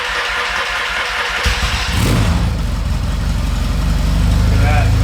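A Yamaha XS650 motorcycle engine that had sat unused for ten years cranks and catches without choke, then settles into a loud, close, steady idle with a deep rumbling throb.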